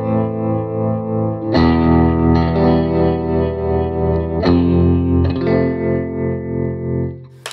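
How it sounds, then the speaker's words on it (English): Guitar through a pulse tremolo pedal on a praise and worship pedalboard, sustained chords with a throbbing volume pulse and an underlying wavering movement, struck twice, loud and close with no talking. "I have this tremolo. I call it a pulse tremolo"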